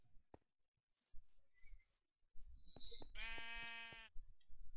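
Sheep bleating in Minecraft: one clear, wavering bleat stands out after scattered soft clicks and thuds, with a brief higher chirp just before it and light footstep-like knocks continuing afterward.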